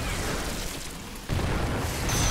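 A deep, rumbling blast from an Orbital Strike in StarCraft II swells into a sustained roar with a sharp burst midway, dense and loud like a large explosion barrage.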